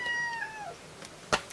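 A cat lets out a long, drawn-out meow that falls in pitch and fades, followed by a short, sharp sound near the end, heard up close in a quiet indoor room.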